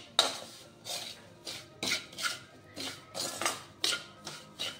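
Amla pickle spice mix is stirred in oil with a spoon, giving a regular series of close scraping rubs against the pan, about two strokes per second, soft and steady with no talk.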